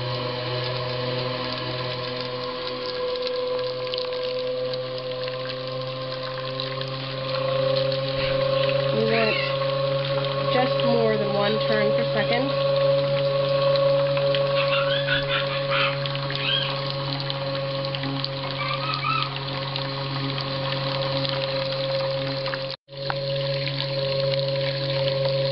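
Manual centrifugal milk cream separator rated 50 L/H spinning at speed, a steady droning hum with a trickle of milk flowing, continuous and fairly loud, briefly cut once near the end.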